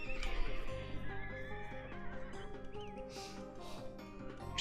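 A knight's horse in Age of Empires 2 gives a clear whinnying neigh, close and distinct, over soft game music.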